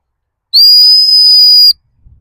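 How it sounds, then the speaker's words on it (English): A single loud, steady gundog stop whistle blown during field training of a working cocker spaniel on blind retrieves, one sustained blast of just over a second, close and alone, with faint rustling afterward. "I'm going to stop her on the stop whistle"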